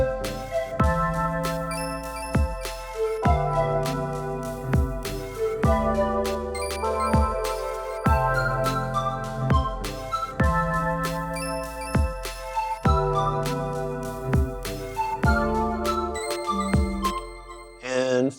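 Pitched-down, heavily filtered drum and bass top loop played from a Digitakt 2, with sharp percussive hits recurring every second or so under tinkling, bell-like melodic tones, steady and upfront with no voices.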